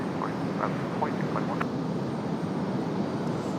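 A Delta airliner taking off from runway 23 right at Raleigh-Durham, heard as a steady, broad jet engine roar at a distance, with faint chirping calls above it.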